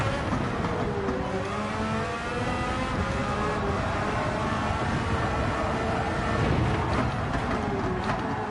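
A loud race car engine in Gran Turismo 7 roars steadily, its pitch rising and settling as it revs, with more engines droning close behind in a continuous wash of motor noise.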